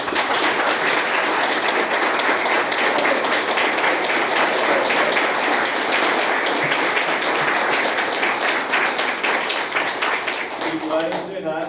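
An audience at an awards ceremony gives sustained applause, many hands clapping in a dense, steady roar that carries on loudly for several seconds before fading near the end.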